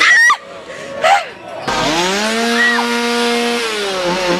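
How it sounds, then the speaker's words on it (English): A chainsaw revs loudly and steadily at a haunted house attraction during a Universal Horror Nights event, rising and falling in pitch after a couple of brief shrieks and crowd noise. "I hate the fake chainsaws because they're usually real chainsaws."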